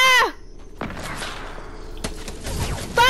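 A burst of gunfire goes off in a Fortnite match, followed by thumping impacts and game effects, with a player's voice briefly heard at the start and end.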